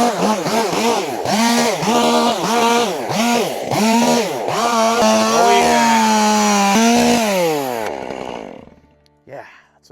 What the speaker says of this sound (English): they would have grabbed their chainsaw